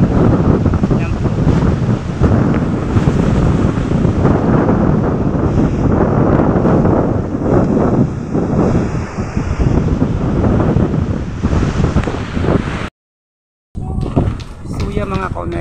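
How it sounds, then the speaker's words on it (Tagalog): Big ocean waves crash and roar under strong typhoon winds during Typhoon Kristine, loud continuous surf and heavy wind buffeting the microphone, with a brief dropout near the end and a person speaking over it. "Ayan po mga kaunesa po ang sobrang laki po ng alon."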